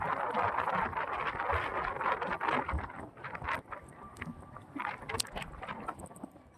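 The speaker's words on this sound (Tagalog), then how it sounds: "Lakas talaga ng hangin," Strong storm wind gusting across a Manila Bay reclamation site near a ship and sand-laden dump trucks, a loud, continuous roaring rush with buffeting surges.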